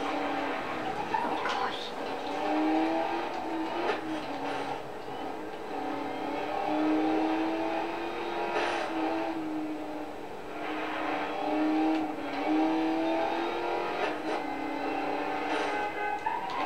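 A car drives along on a road trip, its engine note rising and falling through several revs and gear changes over a steady road rumble, with occasional voices talking inside the cabin.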